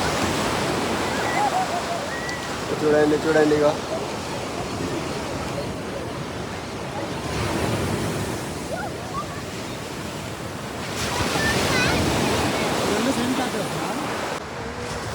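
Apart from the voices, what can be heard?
ocean waves on a beach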